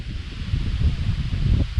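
Strong gusty wind stirs and rustles foliage outdoors at a bird-trapping site, a steady close rush and buffet with swelling surges and no talking.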